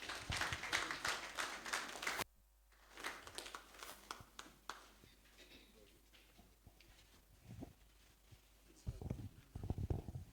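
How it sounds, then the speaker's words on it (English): Audience applause in a conference hall at an environmental protection retreat, a dense burst of many clapping hands that fades quickly, then speech over a noisy room with scattered claps. "Can we give him a round of applause again?"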